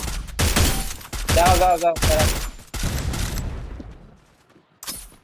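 Bursts of rapid gunfire in the Free Fire battle royale game crackle loudly in dense volleys, with a player shouting over the shooting during a tournament match.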